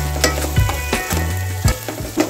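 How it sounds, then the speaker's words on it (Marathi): Ginger garlic paste and curry leaves sizzle in a hot pan for Malvani chicken, a loud close crackle with a few sharp bursts as ingredients hit the oil, over a low steady hum. "आपण त्याच्यामध्ये आलं लसणाची पेस्ट टाकूया. एक चमचा आलं लसूण पेस्ट. चार पाच कढीपत्त्याची पानं."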